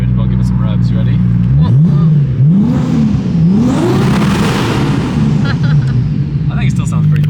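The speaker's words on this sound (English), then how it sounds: "I'll give it some revs." A 750whp Toyota JZX100 Chaser with a titanium exhaust revs hard several times close by, its note sweeping up and down in loud rising and falling pulls over a steady idle.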